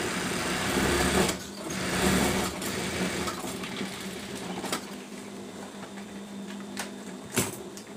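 A sewing machine stitches the folded corner of a silk king-size bedsheet, its motor whirring steadily up close with brief pauses and a few sharp clicks.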